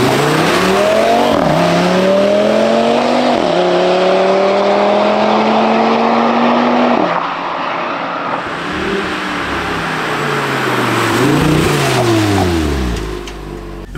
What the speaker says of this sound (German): Wir sind jetzt im TTRS und fahren mal los.